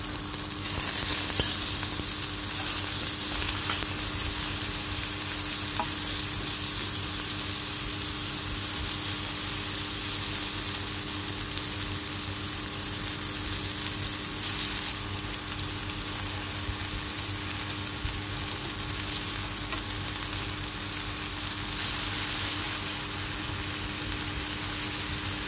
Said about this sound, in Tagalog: Tapos maglagay tayo ng kunting mantika sa pan para i-grill yung shrimp.